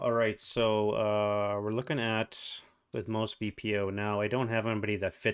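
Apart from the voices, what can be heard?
No everyday noise stands out behind the speech.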